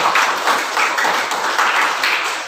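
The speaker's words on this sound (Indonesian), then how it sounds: "Berikan tepuk tangan dulu yang ketiga" Indonesian classroom of schoolchildren giving a round of applause, a steady, dense patter of many hands clapping that stays fairly loud throughout with slight rises and dips.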